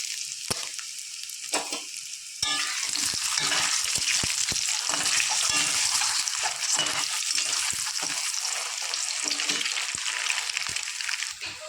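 Eggs fry in oil seasoned with turmeric and chili powder, a loud, dense sizzle that starts quieter and swells after a couple of seconds, with scraping stir sounds and crackles running throughout.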